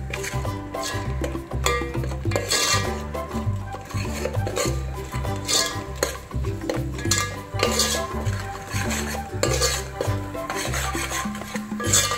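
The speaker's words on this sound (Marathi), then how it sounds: "तर हे मसाले चांगले परतून घेऊया तेलामध्ये." Mutton masala spices are sautéed in oil in a pot, with continuous rhythmic stirring and scraping of a utensil against metal, close and busy, with no voices.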